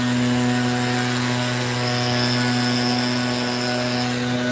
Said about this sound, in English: I think there's somebody with a leaf blower.